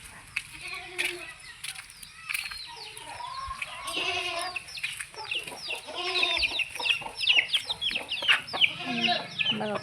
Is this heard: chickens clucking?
yes